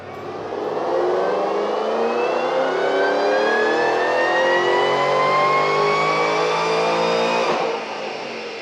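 A Ford Shelby GT500 with a VMP Stage 4 package revs hard on a dyno, a loud, sustained engine note rising steadily in pitch for several seconds before dropping off near the end.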